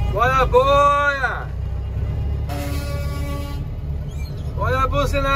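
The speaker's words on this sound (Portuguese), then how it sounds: "Bora buzinar aqui, hein?" Loud truck horns honk in bursts during a truck convoy rally in Brazil, with a long blast between two shorter wavering toots, over steady engine and traffic rumble.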